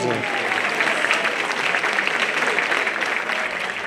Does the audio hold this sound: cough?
no